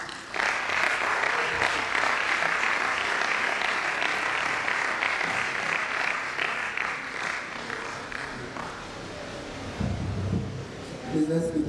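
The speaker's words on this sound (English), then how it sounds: "Please let's keep clapping for." A lecture audience claps in sustained, dense applause for about ten seconds, steady and close, then fades with a few scattered claps and a brief voice near the end.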